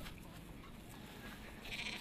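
Goats bleat on a small farm in Dédougou, Burkina Faso, a faint bleat rising late over a steady outdoor background with no clear speech.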